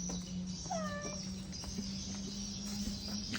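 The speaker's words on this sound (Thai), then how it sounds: "แต่ว่าเราเจอน้องแมวสองตัวนี้" A cat gives a single short, rising meow outdoors, heard over a steady background hum and ambient noise; two cats are present.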